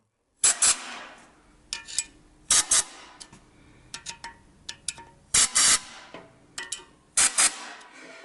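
Compressed air fired in short, sharp bursts through engine oil passage holes, several loud hissing blasts, with small metallic clicks and taps between them.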